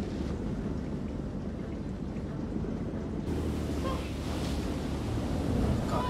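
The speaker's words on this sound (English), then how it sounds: "God, I don't like these big waves." Big ocean waves in the video game Man of Medan rumble and wash in a dense, continuous low roar, swelling louder in the second half.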